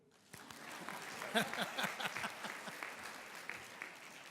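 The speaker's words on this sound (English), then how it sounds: "It's okay to clap for me, too." Audience applause at a university investiture ceremony, a steady wash of clapping from a seated crowd that swells after the start and holds fairly evenly to the end, with no talk over it.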